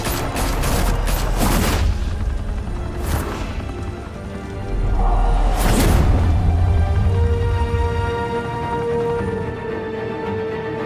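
A volley of gunfire in Batman: The Telltale Series, a burst of sharp shots followed by heavy booming impacts and crashes, then a fading rumble with a steady tone.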